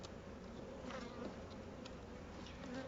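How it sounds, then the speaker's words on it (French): Honey bees shaken from hive frames swarm in a dense, continuous buzz, close and steady throughout, with no talking. "je vais les secouer dans cette fameuse manne de manière à récupérer le paquet d'abeilles dont j'ai besoin pour peupler mes nucléis"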